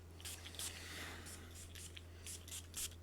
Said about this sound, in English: I'm going to spray it on again to get the opening.